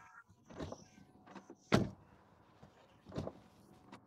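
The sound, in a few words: Tesla Model Y door closing, rough metallic sound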